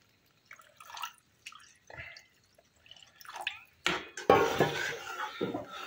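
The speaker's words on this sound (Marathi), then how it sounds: "आपण थोडंसं अजून पाणी टाकूया." Water is poured into a gravy simmering in a pan, with a few light drips and clinks first, then a louder, sustained splashing pour that carries through to the end.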